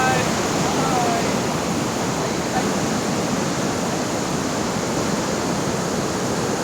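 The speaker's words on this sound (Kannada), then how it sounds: "ಸಖತ್ತಿದೆ ನೀರು ಮಾತ್ರ, ತುಂಬ ಪ್ರೆಷರ್ ಇದೆ ನೀರು." High-pressure water rushing through the crest gate of Bhadra Dam, a loud, steady roar of broadband noise that holds unbroken from start to finish with no pauses.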